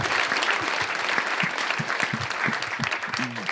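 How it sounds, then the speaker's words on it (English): An audience claps for a woman being introduced at a live election Q&A event, a steady wash of applause running throughout, with faint low voices murmuring beneath it. "Give her a big round of applause, ladies and gentlemen"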